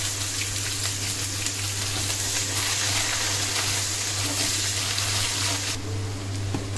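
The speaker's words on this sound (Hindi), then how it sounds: "ब्राउन होने तक इसको ऐसे भूनते जाएंगे, हिलाते जाएंगे।" Garlic, onion and dried red chilli fry in hot oil for a tadka, a steady loud sizzle with faint stirring throughout.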